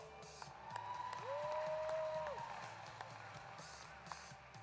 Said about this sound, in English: Let's give all chapters receiving a National Chapter Award one more round of applause.